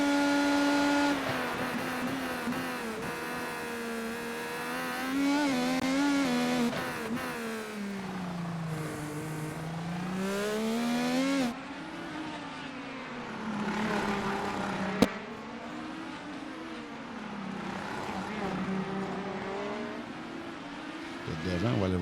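IndyCar race cars scream around the Long Beach street circuit in a continuous high-pitched engine whine. Revs rise and fall through gear changes and passes while a commentator talks over the racing.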